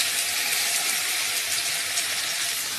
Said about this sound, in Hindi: मैं यहाँ पे 250 ml वाटर ऐड कर रही हूँ।